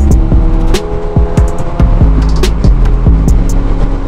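A Piaggio MP3 500 three-wheeled scooter revs hard and loud, its engine note rising and dropping repeatedly through gear changes while overtaking a car on the road, with no talking.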